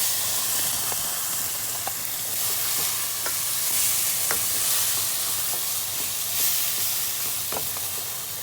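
Tomatoes and powdered spices sizzle in a hot pan for mutton tikka masala, a steady frying hiss with soft scrapes and clicks of stirring throughout, close and alone with no talk.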